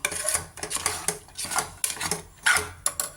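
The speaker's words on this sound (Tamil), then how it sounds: "அதில் அப்படியே அடுப்பில் வச்சு கொஞ்ச நேரம் கிண்டணும்." A spoon stirs sweet pongal with jaggery syrup in a pot on the stove, making rhythmic metallic scrapes and clinks, close and clear, repeating about every third of a second.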